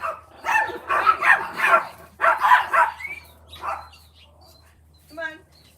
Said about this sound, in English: My dog is encounter the neighbor's dog.